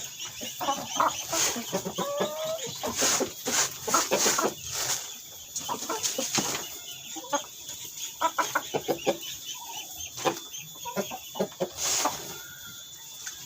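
Several chickens cluck and chatter nearby in short, irregular bursts, with occasional sharper calls over a busy farmyard background.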